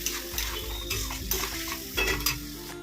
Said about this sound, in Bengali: এবার ভালো করে কষবে যতক্ষণ তেল না বেরোয়।